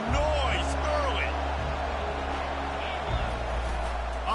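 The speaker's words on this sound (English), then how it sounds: "This crowd bringing the energy and noise early." A packed college football stadium crowd at an Iowa game sends up a steady, dense roar that fills the space, while a commentator talks over it.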